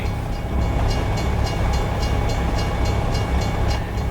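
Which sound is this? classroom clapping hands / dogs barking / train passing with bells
train passing with bells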